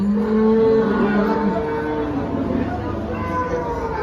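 A dairy cow, HF or Jersey, lows at a busy cattle market in Dhule: a long, deep moo near the start, then a fainter second call, over a background murmur of people and market noise.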